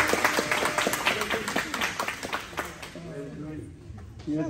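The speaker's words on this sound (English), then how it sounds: "A round of applause for Duana and Mary Nisha," Wedding guests clap for the newly joined couple, a moderate burst of applause mixed with voices and cheers that thins out after a few seconds as talking continues.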